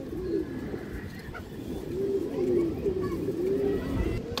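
Fancy breed pigeons coo in a loft, soft low repeated throaty coos rolling on over a noisy, murmuring background.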